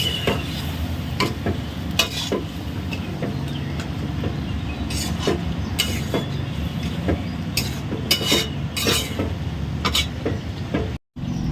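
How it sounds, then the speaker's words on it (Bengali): A tengra fish curry is stirred in a pan after garam masala goes in, with scraping spoon strokes and soft sizzling running steadily throughout, close and fairly loud, no voices. "এবার গরম মশলা দিয়ে নেড়ে চেড়ে নামিয়ে নেব।"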